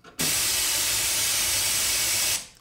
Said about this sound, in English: White noise sounds like this.